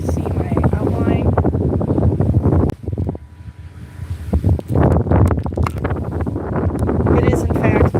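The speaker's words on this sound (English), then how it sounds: "It's fairly windy" Gusty wind roars and buffets the microphone at a windmill farm, loud and continuous with a brief lull partway through, while a voice talks over it at times.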